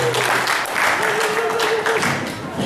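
Audience applause at a Chippewa memorial round dance, moderately loud and steady in pulses, with a faint voice partly under it.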